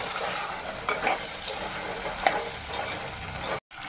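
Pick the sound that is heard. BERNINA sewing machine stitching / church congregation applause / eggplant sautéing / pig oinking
eggplant sautéing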